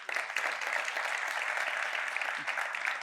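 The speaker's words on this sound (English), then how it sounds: "Another round of applause," Sustained audience applause at a cancer center benefit event honoring its sponsors, a dense steady wash of many hands clapping at even loudness for several seconds with no voices over it.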